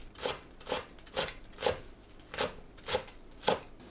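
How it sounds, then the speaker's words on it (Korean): A knife chops green onion into small pieces on a cutting board: seven crisp, evenly spaced cuts, close and fairly soft, with nothing else in the background. "파를 작게 썰어줍니다."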